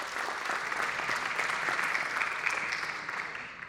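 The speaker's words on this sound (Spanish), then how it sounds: "Un aplauso, por favor." A conference audience at an insurance market congress applauds a speaker's introduction, steady close clapping from many hands with individual claps standing out, continuing throughout without voices.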